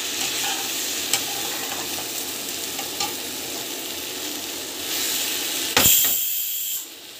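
Okra, or vendakai, sautéing in a pan gives a steady sizzle and hiss with a few scraping stirs. Near the end there's a sharp clatter, then the sizzle drops away.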